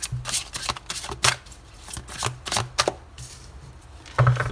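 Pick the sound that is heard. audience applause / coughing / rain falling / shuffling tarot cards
shuffling tarot cards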